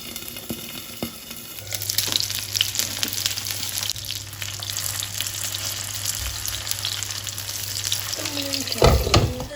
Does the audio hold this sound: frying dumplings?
yes